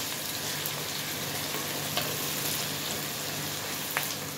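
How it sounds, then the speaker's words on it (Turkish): Bell peppers sauté in a hot pan while making Turkish rose börek, a steady close-up sizzle and crackle running throughout with a couple of faint scrapes of stirring. "Şimdi iyice böyle bu şekilde kavuruyorum."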